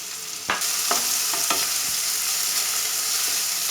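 Onions, cardamom and cloves frying in oil in a pan, a steady close sizzle that jumps up as the ingredients hit the oil, with several soft stirring scrapes through the hiss.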